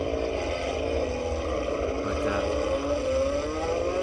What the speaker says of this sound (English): You can hear the engine starting to rev a little bit more.